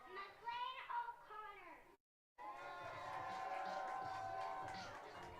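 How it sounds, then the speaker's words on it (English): Baseball crowd at a minor-league game between the Missoula PaddleHeads and Glacier Range Riders, cheering and applauding with shouts and whoops, a brief gap, then steady sustained clapping and crowd noise from the stands. "Fans giving the little guy a round of applause after the announcement."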